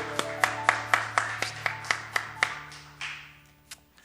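A church congregation claps in blessing of the next generation during a Sunday worship service, a sparse run of about a dozen distinct claps in a rough rhythm over a sustained organ-like tone, tapering near the end.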